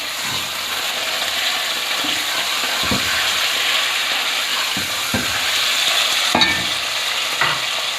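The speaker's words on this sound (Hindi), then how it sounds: "अब मैं इसमें डाल रही हूँ चिकन।" Chicken hisses as it fries with lightly browned onions in a pan for a fenugreek and meat curry. The steady close sizzle carries a few scraping stirs and clinks, with no talking.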